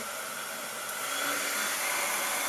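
A heat tool blowing on its cool setting for crafting with stencils and paste gives a steady, loud, close whooshing airflow that holds constant and builds slightly, with no talking.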